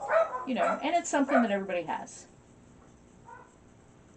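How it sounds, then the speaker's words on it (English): Dogs bark in the background of a home while someone talks, the barks and yips mixed under his voice and then fading as the room goes quiet. "I'm sorry about the dogs in the background."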